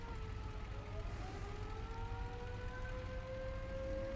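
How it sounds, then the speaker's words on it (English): An air raid siren wails over a base in a VR flight combat game, a steady drawn-out rising tone that holds loud and continuous against a low rumbling background. "air raid siren means there's a plane over our base"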